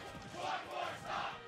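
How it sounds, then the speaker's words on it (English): Crowd at a Super Smash Bros. Ultimate tournament in Miami cheers for a ROB player, two swelling roars of shouting and cheering over about a second and a half, moderately loud and steady with no clear talk. "South Florida cheering for Anathema."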